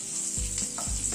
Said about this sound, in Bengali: গ্যাসের ফ্লেমটাকে মিডিয়ামে রেখে ধীরে ধীরে উল্টে পাল্টে ভেজে নেব